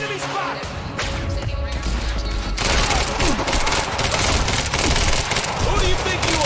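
Gunfire in the Quantum Break video game, a dense, loud continuous fusillade of shots and debris crackle that fills the whole stretch, with a brief shouted voice near the start.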